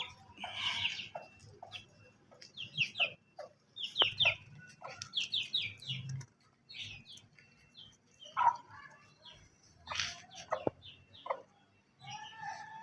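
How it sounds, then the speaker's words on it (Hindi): Pet Australian budgerigars chirp and chatter in quick bursts of high twittering calls, close but soft, with short pauses between flurries. "ये है जी मेरे ऑस्ट्रेलियन बजीज की वीडियो दिखा रहे हैं आपको।"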